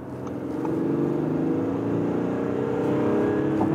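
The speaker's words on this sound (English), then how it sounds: "I want to show you an acceleration from 65 to 100." A 2019 Audi A6 C8 diesel in S mode accelerates from 65 to 100 km/h on the Autobahn, heard from inside the cabin as a steady, loud engine drone whose pitch climbs smoothly throughout, with no talk.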